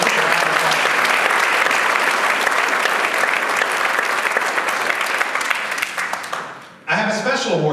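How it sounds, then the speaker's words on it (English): A Rotary Club meeting audience gives sustained loud applause for an award recipient, dense and steady, fading out near the end before a voice begins speaking. "So let's give her a round of applause."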